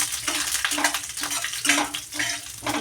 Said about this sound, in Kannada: ಸ್ವಲ್ಪ ಇದು ಎಣ್ಣೆಯಲ್ಲಿ ಫ್ರೈ ಆಗಿದೆ